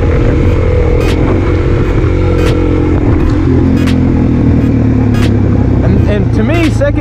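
A motorcycle engine runs loud and close, pulling away steadily in second gear with a rising drone and some clicking noises over it.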